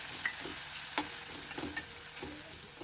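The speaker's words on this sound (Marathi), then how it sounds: "टोमॅटो घातल्यानंतर टोमॅटो छान मऊसर होईपर्यंत परतून घ्यायचा" Finely chopped tomato sautéing in a pan for dal palak, a soft steady sizzle broken by several light spatula stirs and scrapes at irregular intervals, fairly quiet and with no voices.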